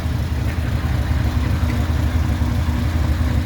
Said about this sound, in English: So there you go, cold start, 1966 Ford Thunderbird.